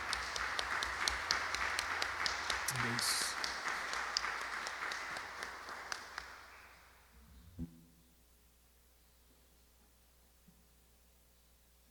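A church congregation at Capela do Calvário claps and applauds steadily for several seconds before it fades out, followed by a brief spoken word and a quiet room.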